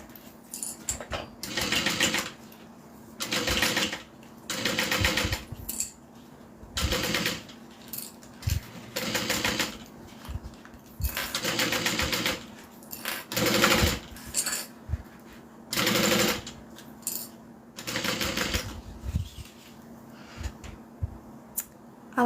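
A sewing machine stitching at a 3.5 stitch length runs in about nine short, loud bursts close by, each run of rapid needle clatter separated by brief pauses.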